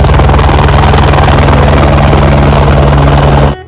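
A helicopter at a helipad on the Kedarnath route thunders loudly and close, its rotor beating in a fast, steady pulse that stops abruptly at the end.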